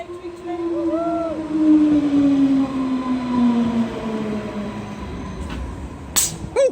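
A battery electric train running on the Greenford Branch line in London, with a steady rumbling drone and whining tones that slowly slide in pitch, followed by a few sharp clicks near the end.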